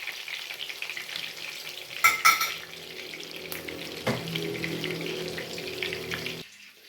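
Zucchini blossoms fry in hot oil with a steady close sizzle and crackle, broken by a few sharp louder bursts as the pieces are flipped, then the sound cuts off near the end.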